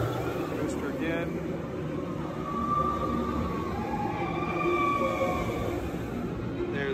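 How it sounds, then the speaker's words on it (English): The TRON roller coaster train rumbles past at a distance, a low continuous roar that swells and fades amid general outdoor noise. "here goes the coaster again"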